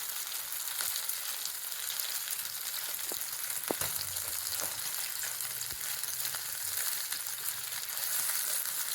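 Chicken pieces browning in a pan, a steady broadband sizzle and crackle running the whole time with a few faint clinks and a brief low sound midway.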